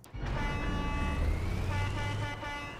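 A Bastion vehicle horn in the game Crossout sounds a sustained, tonal honk with several stacked pitches, steady and fairly loud for about two and a half seconds over engine rumble, with no speech.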